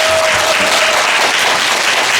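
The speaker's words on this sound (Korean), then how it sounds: "뜨거운 박수 한번 부탁드리겠습니다." Warm audience applause fills a hall at the opening ceremony of the 13th Yun Dong-ju literature and arts festival, a dense, steady clapping that holds at full strength from start to finish with no voices.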